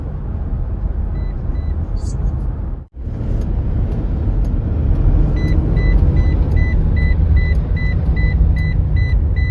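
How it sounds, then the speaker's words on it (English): A Mitsubishi's door-ajar electronic chime beeps repeatedly at a steady pace over a low idling engine rumble, caused by a loose connection. "Four-way flashers going off, it's beeping, the door ajar is line, the light's on"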